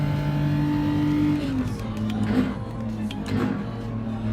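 A race car engine in the video game Gran Turismo 7 drones steadily, its revving tone dropping slightly partway through and then holding at an even pitch, with no voices.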